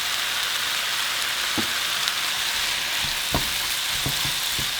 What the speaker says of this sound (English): we're going to fry them for about 5 minutes